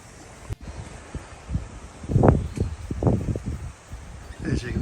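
Wind gusts buffet and rumble across the microphone in uneven bursts, low and blustery, with a faint rustle in between.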